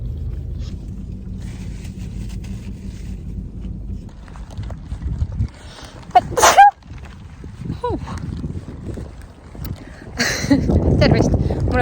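A single sharp sneeze inside a moving car, loud and close, breaking through low engine and road rumble, with speech around it.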